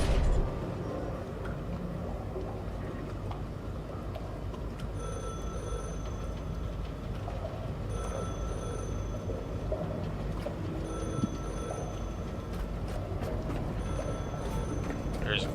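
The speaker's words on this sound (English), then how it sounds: "There's a phone ringing." A telephone rings in a video game, with bright trilling bursts repeating about every three seconds over a steady low rumble.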